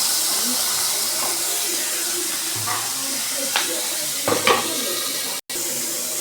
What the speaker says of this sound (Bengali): ভালো করে একটু নাড়িয়ে চালিয়ে নেব